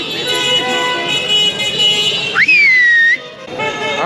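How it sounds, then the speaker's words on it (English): Car horns honking on a busy New York City street during an e-bike group ride, with a sustained tonal blare and a short rising, bending tone over street noise. "We got some honks going right now."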